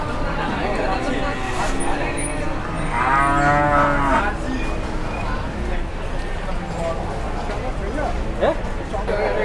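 Cattle delivered by truck moo loudly in a drawn-out call, with further lowing and shuffling hooves around it while someone talks nearby.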